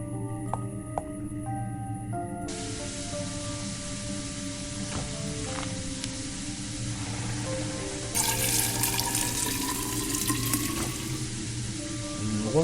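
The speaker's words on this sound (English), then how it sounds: "I have to fill the cauldron with water," In the Fran Bow game, water runs steadily into a cauldron, a continuous splashing pour that grows brighter and fuller partway through, heard over a low droning musical background with no talk.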